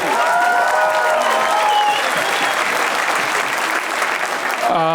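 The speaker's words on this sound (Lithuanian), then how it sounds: "Wow, plojimai Laurinui ir Karoliui." Enthusiastic clapping for Laurinas and Karolis from a small crowd fills the whole stretch, loud and continuous, with a faint voice near the end.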